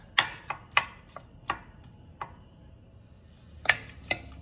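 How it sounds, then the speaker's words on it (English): A spoon or spatula stirs Thai green curry ingredients in a pan, making a few sharp, separate clinks and taps against the metal with quiet gaps between them, fairly close and with no voices. "So I'm just gonna stir them up."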